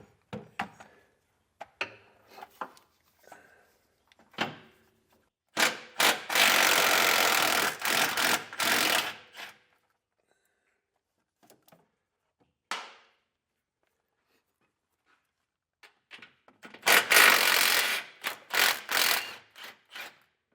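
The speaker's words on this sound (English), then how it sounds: "We're going to take a 15mm socket. We're going to remove the two nuts that are holding the bracket in place." A 15mm socket wrench removes two nuts from a bracket while Air Lift LoadLifter 7500 XL Ultimate rear air springs are set up, heard as two loud bursts of rapid mechanical ratcheting separated by quieter taps and handling noises.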